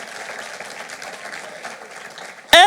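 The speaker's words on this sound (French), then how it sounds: "Quelqu'un ici acclame." A church congregation applauds and cheers, a steady broad wash of clapping that runs throughout, rising to a sudden loud burst near the end.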